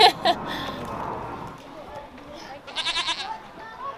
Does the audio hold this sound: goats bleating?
yes